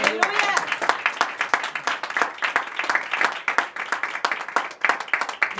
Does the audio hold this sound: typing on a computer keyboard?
no